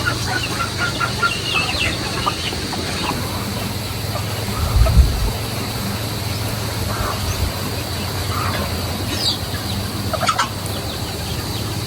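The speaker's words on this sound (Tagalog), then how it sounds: "si Bossing ay nagpapakain uli ng kanyang mga alagang manok." Pet chickens clucking while being fed outdoors, with soft scattered clucks and calls over a constant hiss of background noise. A brief low thump comes near the middle.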